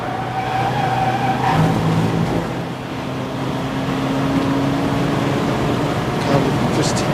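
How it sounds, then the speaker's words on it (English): A Porsche race car rolls down the pit lane at Silverstone during a club enduro, its engine a loud, steady drone with a passing swell in the middle, mixed with ambient circuit noise. "78 Porsche coming down pit lane at the moment."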